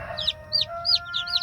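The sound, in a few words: Brahma cross-breed chicken chicks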